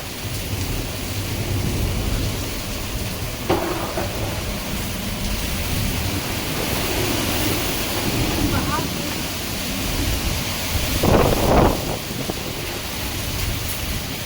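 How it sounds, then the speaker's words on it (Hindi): Heavy rain pours in the mountains while water floods across the roads, a dense, unbroken roar of splashing and rushing water with a few louder bursts. "रास्तों में जगह जगह इतना पानी आ रहा है, ये देख सकते हैं, पूरा पानी पानी हो रहे हैं रास्ते।"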